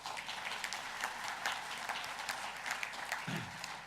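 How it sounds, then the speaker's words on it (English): A convention audience gives a sustained round of applause, dense clapping holding at a fairly even level from start to finish, with a brief low thump near the end. "Could we give them a round of applause?"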